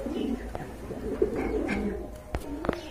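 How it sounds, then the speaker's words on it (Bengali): A pair of racing pigeons held for sale coo softly up close, their low throaty calls repeating over faint background noise with a few sharp clicks near the end. "খুবই চমৎকার এক জোড়া কবুতর"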